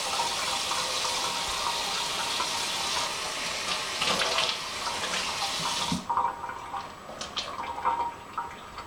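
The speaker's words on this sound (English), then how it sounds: "the cold tap is just fine. So you're just gonna rinse it off, cool the hair down." Cold tap water runs steadily over doll hair being rinsed in a sink, a close continuous splashing stream that stops abruptly partway through, followed by scattered drips and light handling sounds.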